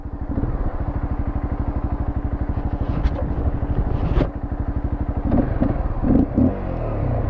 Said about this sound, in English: This bike has fuel injection. It pops and spits in neutral.